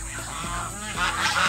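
Geese honk at a live poultry market, several loud, close, overlapping calls in quick succession over a busy background.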